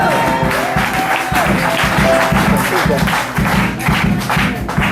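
A church congregation applauding in sustained, dense clapping, close and loud, with rhythmic pulses and some voices and music mixed in throughout.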